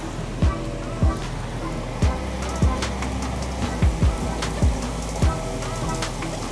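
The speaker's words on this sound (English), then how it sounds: "I'm gonna fry it up using the shallot oil that we made earlier." Meat fries in shallot oil in a hot pan as a filling for sticky rice dumplings, a loud, steady sizzle close up with regular crackling pops.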